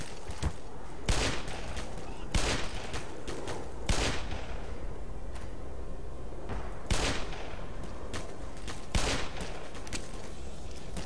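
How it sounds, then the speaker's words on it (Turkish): Gunfire in the video game Black Mesa: repeated loud, sharp shots and bursts ring out at irregular intervals over a constant background din. "Aga birileri sıkıyor ama nereden sıktığını anlayamıyorum"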